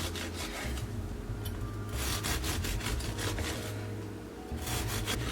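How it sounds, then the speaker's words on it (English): A knife saws back and forth through a baked Italian biscotti log, cutting roughly one-inch slices: steady, rough scraping and crunching strokes, soft and close, with brief pauses between cuts. "I'm going to just cut these and put them right back on there, and cutting them at about 1 inch"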